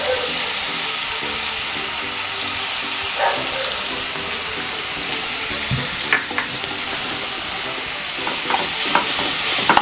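Chopped onions and other ingredients are sautéed with salt in a pan for homemade spaghetti, making a loud, continuous sizzle with repeated stirring scrapes and clanks of the spoon that grow busier toward the end. There is no talking.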